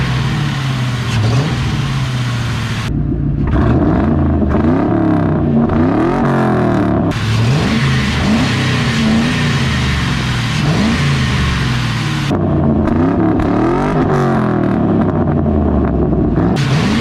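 A 2001 Ford Mustang New Edge fitted with a cold air intake revs up loudly and repeatedly, its engine note sweeping up and down in several bursts with no talking over it.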